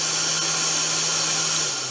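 A Citroën 2CV's electric cooling fan gives a steady, loud whirring hum, airy and constant like a hair dryer, holding level without pause.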